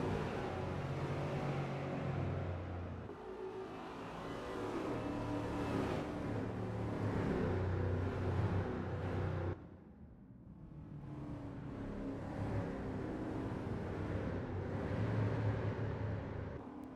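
Spec P71 race cars driving at Willow Springs International Raceway in a sim racing game, a continuous dense roar of several engines with shifting pitch, briefly dipping quieter before the pack noise swells again.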